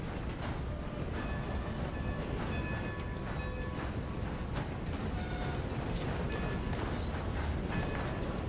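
A train rolls along in Red Dead Redemption 2, a constant heavy rumbling drone with faint metallic creaks and squeals over it, steady and unbroken with no talk.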